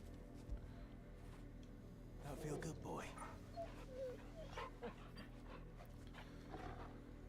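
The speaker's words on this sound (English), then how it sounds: "you pet the dog, you feel better" A dog in the video game Final Fantasy XVI whimpers and pants while being petted, soft close whines under a low game ambience, with a voice speaking at points.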